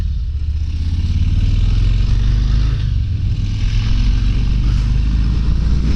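A 2023 Harley-Davidson Fat Boy 114 accelerates with a deep, loud, close V-twin rumble, heavy low-end throb pulsing steadily under wind noise for the whole stretch, no voices.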